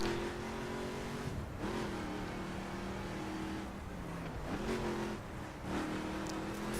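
Race car engine in The Crew revving and easing on and off the throttle through circuit corners, steady loud drone with pitch dips and climbs as the car brakes and accelerates, a faint tire squeal possible.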